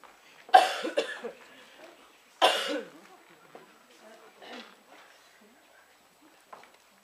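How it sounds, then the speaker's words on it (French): Two sharp, loud coughs a couple of seconds apart, followed by quieter throat sounds and faint murmuring in an otherwise quiet room. "Tu tousses aussi bien que moi"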